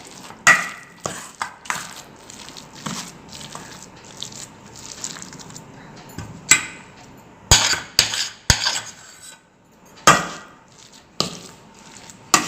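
Kuthiraivali millet rice being mixed with gram flour in a bowl for pakoda, giving soft stirring scrapes broken by several sharp clinks of utensil against the bowl, close up with no talking.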